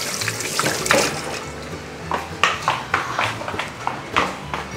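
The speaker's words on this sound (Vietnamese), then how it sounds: "Na đang xách cái micro đi rửa tay" Tap water splashes steadily into a sink while hands are washed, with irregular rubbing and splatter bursts close by and no speech.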